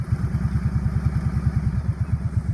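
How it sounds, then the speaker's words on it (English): A four-wheeler engine started by holding in the ignition button settles into a steady, rapid low chugging idle with a regular pulsing rhythm, close and fairly loud, with no voices. "hold in the ignition button to start the engine."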